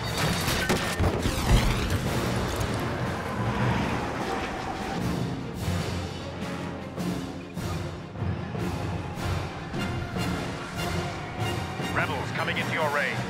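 Missile explosions and booming blasts fill a Star Wars Battlefront space battle, a dense, loud barrage of rumbling impacts and crashes that continues throughout.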